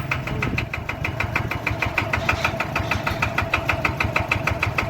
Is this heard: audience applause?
no